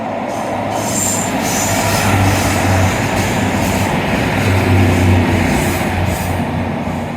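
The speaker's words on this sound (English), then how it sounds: "Another train hiding behind that fence." A train rolls past behind a fence at Dawlish station, a steady loud rumble of wheels on rail with faint squeal and clatter, continuous throughout with no voices.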